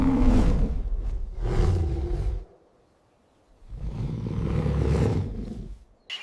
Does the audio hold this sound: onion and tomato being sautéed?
no